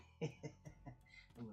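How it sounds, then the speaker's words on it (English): A person coughs in a short burst of several quick, rough hacks, close and fairly quiet, with a voice-like quality mixed in. "I'm gonna start laughing and coughing again."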